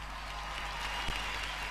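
A crowd claps steadily at a television anniversary show, a dense, even wash of applause with no pause.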